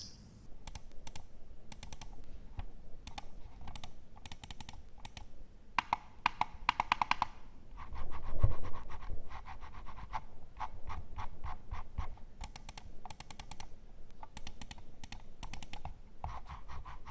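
A Logitech M191 wireless mouse clicks in rapid, irregular bursts of light plastic taps, some quick flurries and some spaced clicks, close and fairly quiet with no talking.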